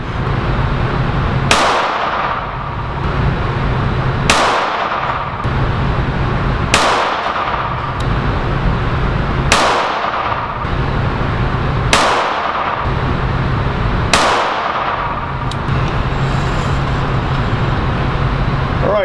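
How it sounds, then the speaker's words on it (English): Six sharp, loud gunshots from a Smith & Wesson 432 UC revolver firing Federal 32 H&R Magnum 95 grain rounds, spaced about two to three seconds apart at an outdoor range, with steady background noise between shots. "Then the second 6 shots are going to be at the bottom 3-inch circle."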